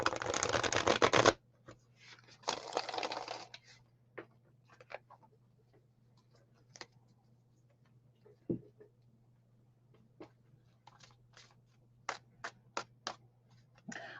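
Playing cards are riffle-shuffled in a quick, close burst, followed by a quieter second shuffle and then scattered soft taps and clicks of cards handled over a low steady hum.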